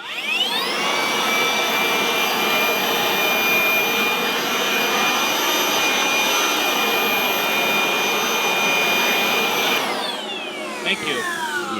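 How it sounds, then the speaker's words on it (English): A loud handheld blower blasts dirt off a worker on a deck-building job, a steady whining roar that holds for about ten seconds before spinning down, with brief talk near the end. "blower."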